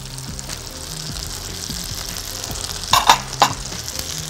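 Eggs poured into a hot pan of fried rice and vegetables sizzle with a steady frying hiss, broken by a few louder crackling bursts and scrapes of stirring near the end.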